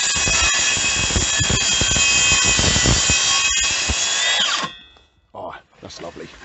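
A Makita DHS680 cordless circular saw cuts a small piece of 19 mm (3/4 in) plywood along a guide rail, giving a loud, steady, high-pitched whine for about four and a half seconds before cutting off and winding down.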